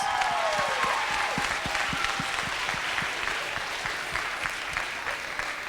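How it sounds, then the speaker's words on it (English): Students at a school assembly applaud a classroom, producing a steady, dense wash of clapping hands that carries on for the whole stretch, with a few brief tonal whoops or whistles near the start. "Let's give them a huge round of applause."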